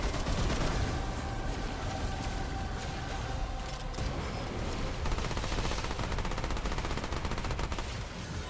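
Steady automatic gunfire from the co-op shooter Remnant 2, a dense continuous stream of rapid shots held at an even loudness for the whole stretch, with no clear gaps between bursts.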